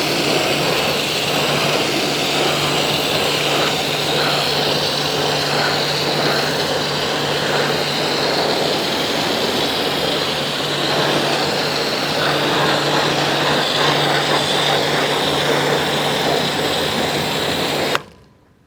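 A pressure washer rinsing cleaning product off car wheels, including the centre caps and wheel nut caps: a steady, loud broadband hiss with a constant motor hum beneath, running unbroken for about eighteen seconds before cutting off abruptly.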